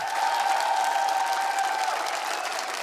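An audience in a hall applauds after a singing performance, a steady, dense wash of clapping that holds evenly throughout at a moderate distance.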